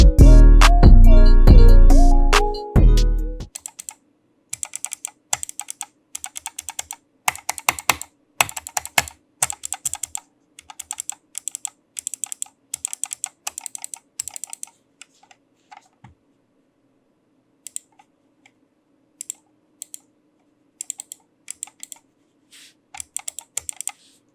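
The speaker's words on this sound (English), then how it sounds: "If you're interested in how the buttons sound on this mouse, here's a short audio test" Button presses on a HyperX PulseFire Core gaming mouse come as sharp, close clicks in quick irregular bursts and single taps, following a few seconds of louder tonal sound at the start.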